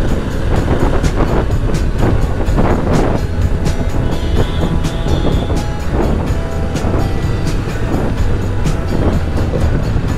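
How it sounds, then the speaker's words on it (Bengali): A metro train passing overhead near Baranagar railway station, heard from a moving motorbike as a loud, continuous rumble and rattle with rhythmic clatter and a brief high squeal, mixed with road and wind noise. "আর এইটা হচ্ছে বরানগর রেল স্টেশন, আর ওপর দিয়ে মেট্রো চলে যাচ্ছে।"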